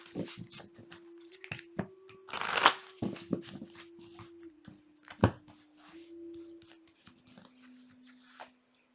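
Tarot cards from a Darkness and Light deck shuffled by hand in a quiet room, several quick riffling bursts and soft slaps separated by pauses, with a faint steady tone in the background.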